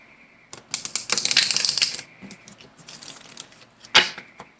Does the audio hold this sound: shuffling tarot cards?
yes